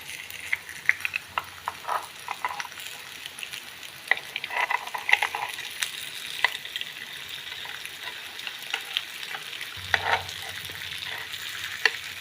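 A poha and coconut snack fries in a pan over a medium flame, making a soft, close sizzle with scattered stirring scrapes and clicks and a low hum near the end.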